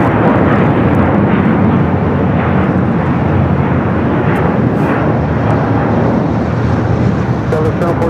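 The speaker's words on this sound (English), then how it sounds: "Japan Airlines Flight 15 taking off to Tokyo Haneda on the A350-1000" Japan Airlines Airbus A350-1000 taking off, a loud, sustained roar of jet engines filling the air, steady and powerful throughout, with voices faintly mixed in.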